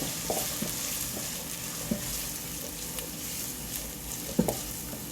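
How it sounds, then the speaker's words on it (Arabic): Onion and carrot sauté in ghee in a pot, a steady soft sizzle broken by a few sharp spoon taps and stirring knocks, with no talking. "عندي بصلة وجزراية انزل بيهم على السمنة"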